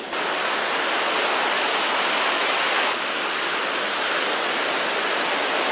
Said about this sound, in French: Ouais, du vent, le vent.